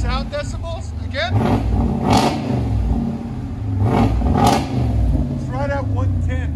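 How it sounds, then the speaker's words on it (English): A 2020 RAM 2500 with the 6.4L HEMI V8 and a Dynomax Race Bullet exhaust revs up twice from idle, each time a loud, deep rising roar that settles back. People talk nearby between the revs. "Give it gas."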